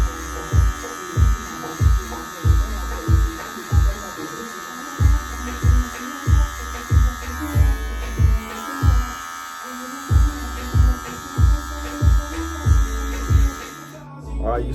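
Electric hair clippers with a 1 guard on, cutting hair in a home self-cut: a steady buzzing motor with rhythmic repeated strokes about every second, close up, with talking now and then.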